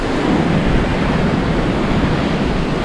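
Loud surf at Candelaria beach in Tenerife, waves churning up sand and turning the water murky grey, a continuous close roar mixed with wind buffeting the microphone.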